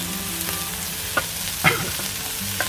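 Prawn rice with spring onions sizzles in a pan with a steady, soft frying hiss. A few light clinks of a utensil against the pan break through, and no one speaks.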